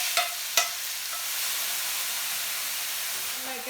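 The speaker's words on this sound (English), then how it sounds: "Lower the flame and let's add the onions." Onions sizzling in hot coconut oil with mustard seeds over a lowered flame for chicken curry, a continuous close hiss after a couple of sharp clinks at the start.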